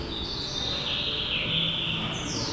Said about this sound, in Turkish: Ve kuş sesi var. Ve kuş sesleri.